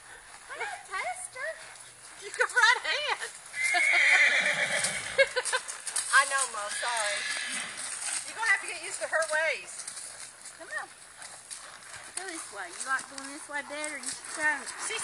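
A Morgan horse under a rider whinnies several times while its hooves clip-clop at a walk, both close, as people talk over them.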